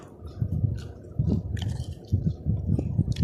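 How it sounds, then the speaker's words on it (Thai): Chili peppers are chewed alongside a stir-fried chili and bean dish over rice, producing close, wet, squishy chewing bursts in an uneven rhythm with short pauses, and no talking. "อันนี้พริกนะคะ เราจะเคี้ยวพริกแบบนี้นะคะ"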